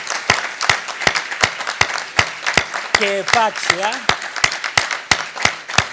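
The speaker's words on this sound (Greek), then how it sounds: "Τους αξίζει λοιπόν ένα θερμό χειροκρότημα" An audience at a Greek ministry event about a mission to the Moon gives a round of applause. Sharp, fairly regular hand claps sound close and loud, and someone speaks briefly over the middle of them.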